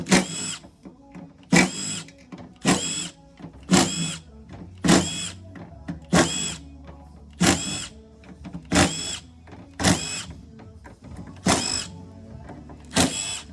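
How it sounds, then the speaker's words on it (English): Power drill backing out T25 bolts from a 68RFE Ram diesel transmission during teardown, about eleven short whirring bursts in a steady rhythm, close and clear with quiet gaps between. "Take all these T25 bolts off."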